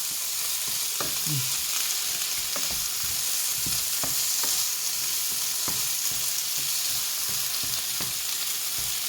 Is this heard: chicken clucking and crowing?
no